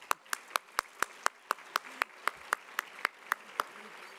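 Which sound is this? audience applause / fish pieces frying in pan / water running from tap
audience applause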